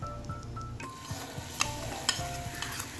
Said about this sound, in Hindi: अब हम इसके बाद करेंगे इसमें वेजिटेबल्स को फ्राई इसी ऑयल में